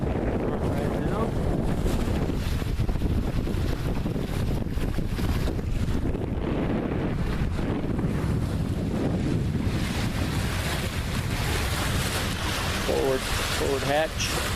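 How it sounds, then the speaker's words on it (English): A sailboat under way in steady wind with small waves, the hull rushing through water under constant loud wind buffeting on the microphone, with a few faint voices near the end. "The boat will pretty much pilot itself because the wind is not too variable."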